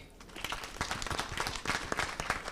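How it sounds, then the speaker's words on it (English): An audience at a high-level intergenerational dialogue on climate adaptation in Africa claps for young leaders, dense steady applause that builds up and holds from a large crowd. "Please, a big applause for them as well."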